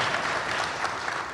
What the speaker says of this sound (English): I think you're not clapping for me